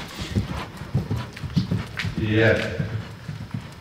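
Horse hooves clip-clop in a rhythmic canter on a dressage arena surface. The footfalls are moderately close, and a voice talks over them briefly.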